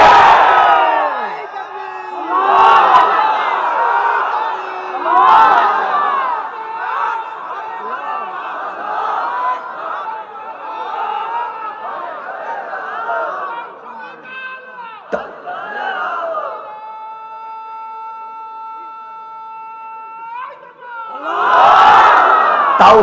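A large crowd at an Islamic waz gathering in Bangladesh loudly chants takbir, swelling in repeated waves of massed voices that fade into a held musical tone before the chanting surges back.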